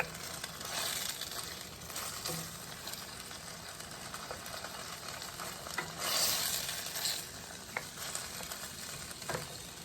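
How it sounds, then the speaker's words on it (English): Pork strips sauté in a frying pan with a steady, close sizzle that stays even throughout. Occasional light scrapes and stirring clicks rise above it. "after sauteing for 3 minutes"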